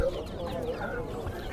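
Chickens and roosters at a busy outdoor poultry market in Sabunchu, clucking and calling steadily at close range amid crowd murmur, with a vendor talking.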